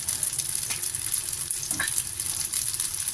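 Chicken stir-fried in a wok with dark soy sauce for Thai rad na, giving a steady, close hiss of sizzling with a soft stirring scrape partway through.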